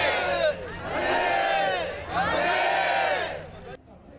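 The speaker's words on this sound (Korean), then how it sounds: "전주 도심의 만세 함성이 울려 퍼집니다" A large crowd in downtown Jeonju, reenacting a 1919 independence march, roars two long swelling shouts of manse in unison, loud and close, the second fading off at the end.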